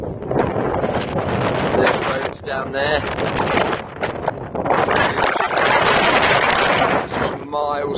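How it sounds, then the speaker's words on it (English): Strong wind gusting on an Appalachian Trail mountain top, roaring and buffeting the microphone almost continuously, with people talking close by under the rush. "The day's beautiful, very windy here, obviously."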